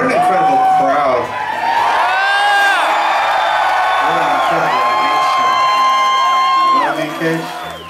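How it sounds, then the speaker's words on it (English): Concert crowd cheering and whooping at a rock show, loud and continuous throughout with high shouts and yells rising over the roar, fading slightly near the end. "What an incredible crowd."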